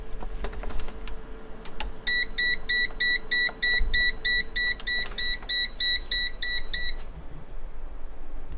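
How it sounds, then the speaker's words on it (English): A PC fan controller alarm beeps in a fast, regular run of about a dozen high-pitched pulses when the fans stop, heard over steady fan hum and light clicking. "If you stop the fans, it will beep."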